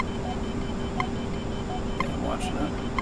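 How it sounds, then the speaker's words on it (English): A missile warning alarm in the flight game Nuclear Option gives short repeated electronic beeps at steady one-second intervals over a constant cockpit hum. "you'll notice that there's two alarms that happen with that missile"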